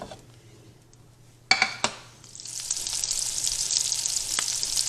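Andouille sausage in a pan: a few sharp clinks of the pan ring out, then a loud, dense sizzle swells up and holds steady close by. No voices are heard.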